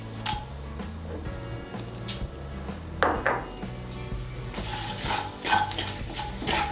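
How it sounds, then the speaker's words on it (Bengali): Bay leaf, dried chili and whole cumin hit hot oil in a kadai, crackling and hissing close by with bright bursts of spluttering and occasional metal clinks, no talking. "এর মধ্যে আমি একটা তেজপাতা, একটা শুকনো লঙ্কা আর 1/2 ছোট চামচ গোটা জিরে ফোড়ন দেব।"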